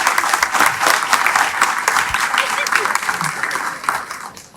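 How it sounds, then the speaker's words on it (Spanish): Congregation applauding church servers during a Spanish-language church service, loud, close and dense clapping from many people that stays strong throughout, thinning slightly toward the end. "Vamos a dar un aplauso a estos servidores."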